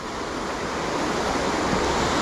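Wharnley Burn waterfall pours steadily over a brick face, a continuous broadband rush that holds at an even, fairly loud level throughout with no pauses or voices.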